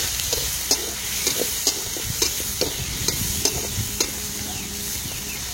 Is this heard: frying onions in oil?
yes